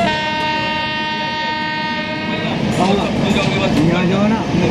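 Rumble and clatter of a Rajdhani Express train on the rails while being overtaken by another Rajdhani, with a long horn tone early on and people talking over the steady noise.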